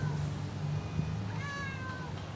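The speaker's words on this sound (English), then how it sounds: "It's a kitty!" A cat in the horror video game Bleak Delivery gives a couple of faint, thin meows over a low droning game soundtrack.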